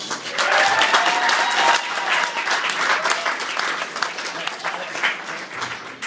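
Audience applause for a veterans' music act, a sustained, fairly loud wave of clapping from a crowd that lasts several seconds and then gradually thins.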